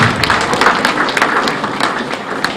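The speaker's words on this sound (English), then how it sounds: "May we please give another round of applause for our permanent" An audience at a Lagos State civil service career week event applauds, with dense, steady clapping filling the room close and loud throughout.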